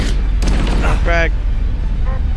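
Frag grenade exploding in the Halo video game, a heavy booming blast with rumbling low end amid ongoing game noise, with a voice shouting over it.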